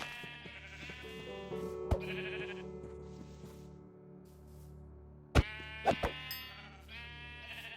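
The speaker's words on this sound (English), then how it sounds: "we're going to kill this sheep" Several sheep bleats from a Minecraft game, short nasal cries spaced a few seconds apart over a steady game background hum, one early and a cluster near the end.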